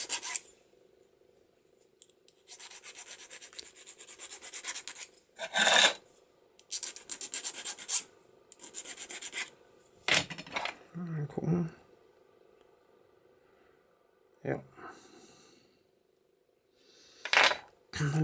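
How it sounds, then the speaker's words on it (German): A metal file rasps on a cabinet lock part in a locksmith's workshop, coming in repeated bursts of gritty strokes separated by pauses, close and fairly loud, with someone speaking at times. "Eine andere Feile nehmen."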